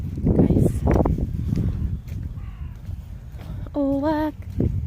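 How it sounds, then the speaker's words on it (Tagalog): Crow cawing outdoors near a chapel on a cold, sunny day, a couple of harsh calls rising over nearby chatter and footsteps, moderately close. "Uwak."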